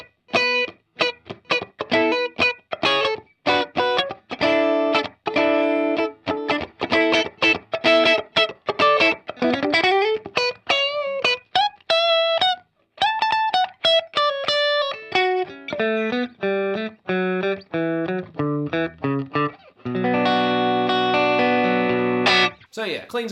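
A Schecter electric guitar with split-coil Diamond Decimator pickups plays clean tones, quick picked notes and arpeggios ringing with a touch of reverb, ending on strummed chords, played alone without talk.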